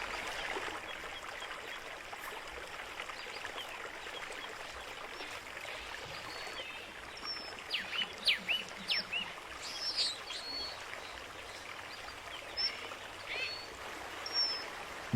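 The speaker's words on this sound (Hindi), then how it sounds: "घाटी की तलहटी में मौजूद ये पानी 600 मीटर ऊंचे पहाड़ों से बहकर नीचे आता है" Water of a valley-floor stream that has flowed down from 600-metre-high mountains, a steady broadband rush and trickle, with scattered bird calls above it.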